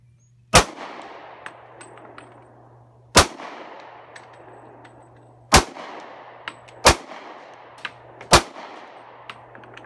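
Ruger rifle gunshots fired at a 70-yard target on a shooting range, five sharp, loud reports spaced a few seconds apart, each ringing out with a decaying echo over low background hum.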